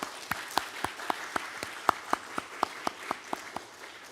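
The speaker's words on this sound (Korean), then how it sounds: "일어나서 인사하실 때 우리 감사와 환영의 박수를 보내드리겠습니다" Sparse, evenly spaced clapping from a small number of worshippers at a university church Sunday service, each clap distinct and sharp against a quiet room, steady in rhythm and fairly soft overall.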